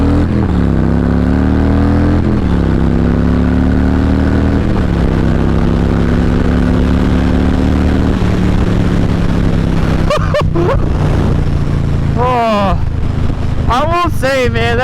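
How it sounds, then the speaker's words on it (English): Under steady wind rush, an engine hums and rises in pitch as a 2021 Harley-Davidson Street Bob 114 motorcycle revs, with rapid upward sweeps near the end, heard from on the bike while riding. "that just does not get old hearing that thing rev out"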